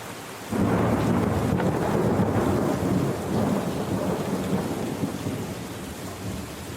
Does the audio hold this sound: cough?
no